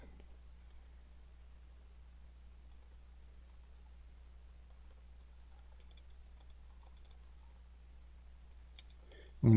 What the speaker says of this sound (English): And then type in your description.